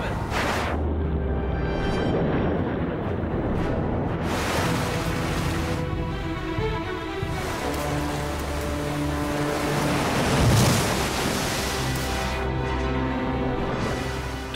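Rushing water of a fast-flowing, near-freezing river torrent roars steadily and loudly throughout, a dense broadband wash with no pauses and no clear voices.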